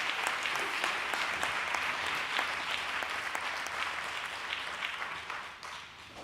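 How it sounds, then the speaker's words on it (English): Sustained applause from a conference audience at an international meeting on homelessness, dense steady clapping throughout that fades slightly near the end. "we need to is ask for a round of applause for people that help and participate in this program"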